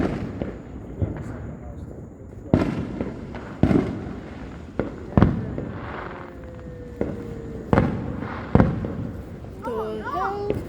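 Fireworks go off outdoors as a series of sharp bangs and crackling bursts spaced a second or so apart, some with a faint whistle, while people talk nearby.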